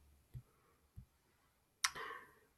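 Calculator keys pressed while entering list values, a few sparse, quiet clicks spaced apart, then a sharper click followed by a brief soft rustle, close and with no talking.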